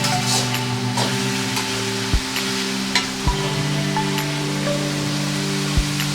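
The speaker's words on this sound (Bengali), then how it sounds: "যতক্ষণ না সবজিগুলো সেদ্ধ হয় ততক্ষণ আমি ভাজতে থাকবো।" Marinated raw chicken and vegetables frying in a pan for fried rice, a steady sizzle running under occasional stirring clatters and a few sharp knocks of utensil on pan, fairly close.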